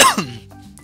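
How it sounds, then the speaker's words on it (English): A single sharp cough bursts out close up, followed by a short throat-clearing rasp that fades into quiet. "Man, I don't know why I'm coughing all over the place."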